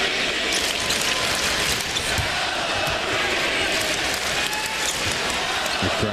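Boston Celtics home crowd chanting Scalabrini's name during a preseason game against the Toronto Raptors, a loud, rhythmic arena chant with cheering and ball bounces mixed in, continuous across the whole stretch.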